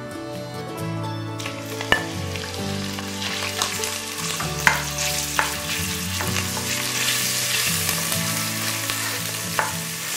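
Lard melts and sizzles in a pot as the base for Italian minestrone, a steady close frying hiss with occasional sharp pops and stirring clicks, no voices.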